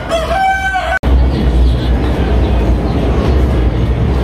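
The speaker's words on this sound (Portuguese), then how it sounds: "Olha o tamanho daqueles galos." A rooster crows loudly in a rising, drawn-out call that cuts off abruptly, followed by a busy, noisy din of market bustle at Mercadão de Madureira.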